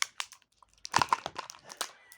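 Scissors cutting open a toy package, with sharp irregular plastic crinkles and snips in quick bursts, close and fairly loud, with no talking.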